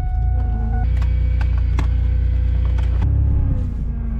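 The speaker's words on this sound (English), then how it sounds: "my power steering pump is so fucking loud" A car's loud power steering pump whines steadily over a low idling engine rumble, close up, with a few faint clicks and a shift in tone near the end.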